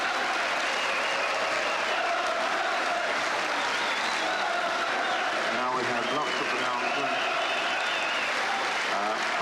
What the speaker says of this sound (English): And listen now to the applause as Charlton leaves league football.